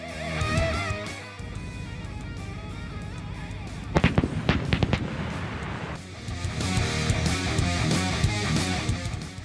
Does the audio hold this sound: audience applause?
no